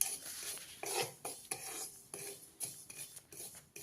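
Poppy seeds being dry-roasted in a pan, stirred with a metal spoon that scrapes and clinks in quick irregular strokes, close and fairly loud with no voice.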